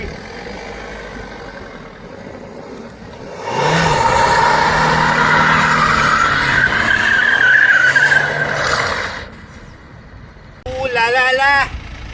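A BMW E90 drifts, its engine revving and tyres skidding in a loud, sustained burst lasting several seconds, followed by a shorter, sharper squeal near the end.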